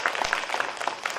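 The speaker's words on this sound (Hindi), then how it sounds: "तालियों से स्वागत करिए।" An audience at a Ram Katha gathering in Pithoragarh welcomes a newly elected district panchayat member with applause, a brisk patter of many hands clapping, moderately loud and steady for a brief moment.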